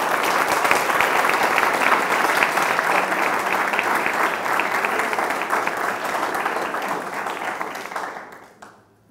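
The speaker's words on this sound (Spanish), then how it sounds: "vamos a darle un gran aplauso a Carlos, que nos dio su tiempo." A large audience at a talk applauds the speaker, a dense, steady round of clapping that holds loud for about eight seconds and then quickly fades to silence.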